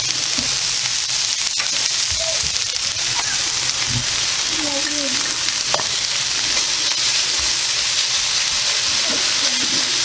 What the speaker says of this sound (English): Now I'm going to add the shrimp.